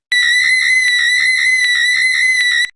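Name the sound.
recorded alleged Sasquatch scream vocalization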